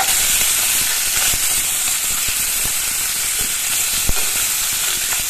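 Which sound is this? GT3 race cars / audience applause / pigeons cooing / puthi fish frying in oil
puthi fish frying in oil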